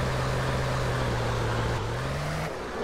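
Moskvich car engine running flat out at about 140 km/h in the GTA Criminal Russia video game, a steady droning hum holding one pitch, stepping slightly up near the end, continuous and close, with no talk.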